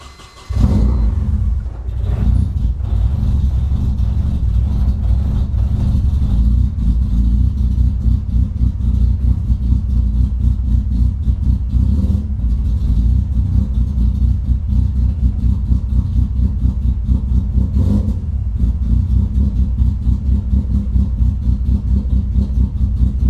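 A Nissan 240 car engine with a modified ECU cranks and catches at the start, then settles into a loud, steady, rumbling idle that runs on with a few brief dips, running unhappily indoors.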